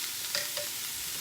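Minced garlic sautés in a pan with a faint, steady sizzle and a couple of soft stirring taps.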